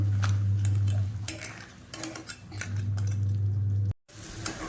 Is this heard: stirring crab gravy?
yes